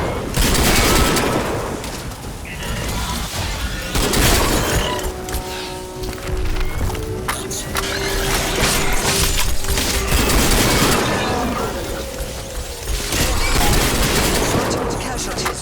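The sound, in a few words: automatic shotgun firing in a video game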